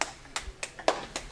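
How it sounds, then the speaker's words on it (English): A slow golf clap, five soft, spaced hand claps from a single person at close range in a quiet room, each clap separate and unhurried. "Golf clap."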